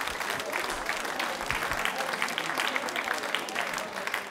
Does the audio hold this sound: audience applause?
yes